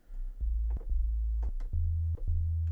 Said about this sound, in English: So now, if we bypass that and change this to a sine wave